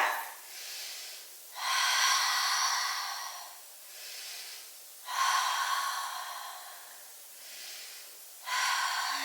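Slow, deep breaths drawn while a yoga bridge pose is held, three long airy inhale-exhale cycles, close and alone with quiet gaps between them.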